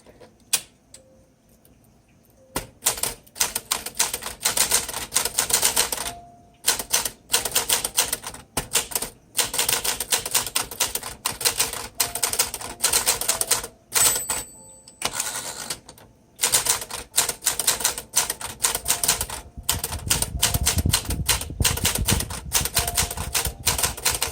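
A 1959 Silent Super typewriter in Sapphire Grey with thick plastic keys clacks through rapid, irregular bursts of keystrokes, with brief pauses and a carriage sound, close and crisp.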